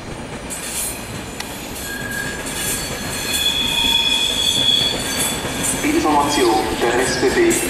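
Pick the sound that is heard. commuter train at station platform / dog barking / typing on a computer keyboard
commuter train at station platform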